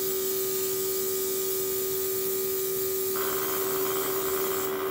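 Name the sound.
Luminess Air airbrush rattling after falling off sink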